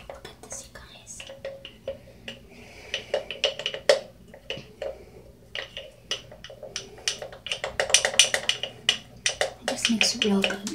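Cornstarch is stirred in a bowl, with a spoon clinking and scraping against the sides in quick, irregular taps. Soft whispered talk runs underneath.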